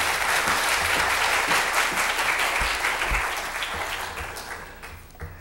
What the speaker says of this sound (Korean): 우리 존경과 사랑을 담아서 박수